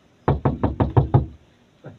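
Six loud, rapid knocks on a house door in a steady burst, followed by a pause and one more fainter knock, with no talking over them.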